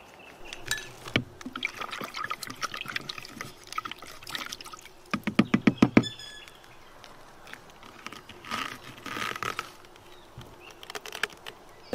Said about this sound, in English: Pour the mix together slowly, small amount at a time.